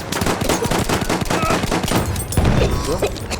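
Gunfire in Battlefield 1 on a multiplayer map, a rapid burst of rifle or machine-gun shots followed by a heavier blast, loud and close, with someone talking over it.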